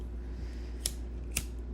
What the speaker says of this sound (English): I'm going to light my sage.